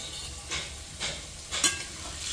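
Potatoes fry in a pan with turmeric and salt, giving a soft continuous sizzle while a spoon scrapes through them in about four quick, regular strokes.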